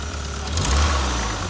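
A turbocharged 1991 Toyota MR2 idles as it warms up, its engine holding a steady low rumble that swells a little partway through the short stretch, with no voices over it.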